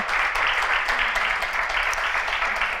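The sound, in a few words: audience applause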